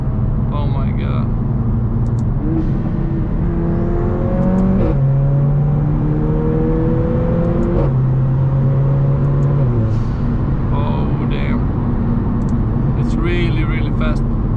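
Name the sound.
Mercedes AMG A45 RENNtech engine accelerating, exhaust pops and crackles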